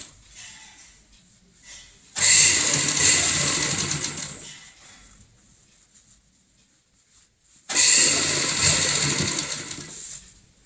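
A sewing machine stitching a frill onto a pillow cover in two bursts of rapid mechanical whirring, each a few seconds long, separated by quiet pauses.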